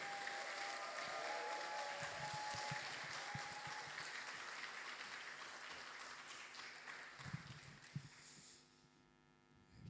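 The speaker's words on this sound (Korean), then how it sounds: "힘찬 박수로 환영해 주시기 바랍니다." A church congregation welcomes its pastor with warm, crowded clapping, strong at first and then gradually thinning and fading, with a few louder knocks near the end before it drops away.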